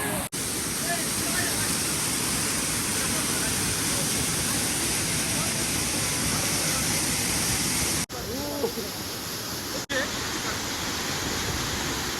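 Daryaghat Waterfall roars as a loud, continuous broadband rush of falling water that fills the whole scene, with a few brief bird chirps faintly above it.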